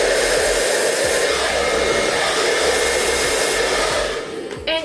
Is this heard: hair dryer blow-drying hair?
yes